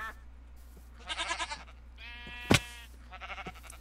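Sheep and goats in a modded survival video game bleat repeatedly: several wavering calls in close succession, one louder sharp bleat near the middle, moderately loud over a low background hum with no talking.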